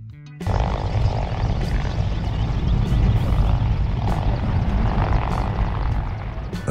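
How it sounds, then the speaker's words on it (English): A Black Hawk military helicopter starts abruptly into a loud, continuous roar of rotor thump and engine whine, holding steady and near with faint periodic swells and no talk. "a multi-role military helicopter adaptable for firefighting missions with external water buckets"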